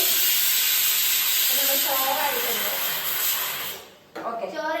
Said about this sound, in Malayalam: കുക്കർ വിസിലടിച്ചു